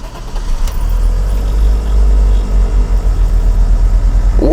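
BMW E34 sedan engine running, a loud steady low rumble with a pulsing idle throughout, close to the microphone, rising slightly in pitch near the end, with no talk.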